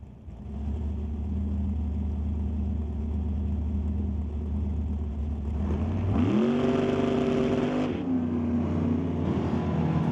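A Pro Mod Mustang and a Super Street Malibu drag racing car idle with a loud, steady rumble, then the engines rev sharply upward, hold and drop back.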